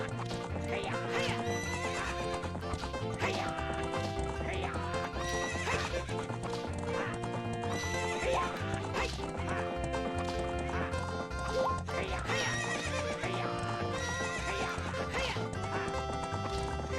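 A horse gallops with steady rapid clip-clop hoofbeats and whinnies during a horse race in Zelda: Ocarina of Time. Loud game music plays continuously underneath the hooves.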